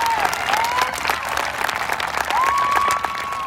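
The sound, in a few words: audience applause at a high school graduation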